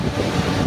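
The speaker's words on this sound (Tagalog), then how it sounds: "Kinikusog hangin." Strong wind at Panglong Airport roars steadily against the microphone, a constant low rumbling buffet with no pauses.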